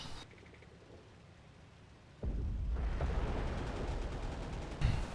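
A Hummel artillery gun fires in a WWII strategy game, a sudden loud blast that gives way to a sustained rumbling roar, with a second sharp report near the end.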